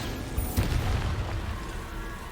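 The Bombarda spell in Hogwarts Legacy goes off as a single deep, rumbling blast that rolls and fades over a couple of seconds amid game ambience.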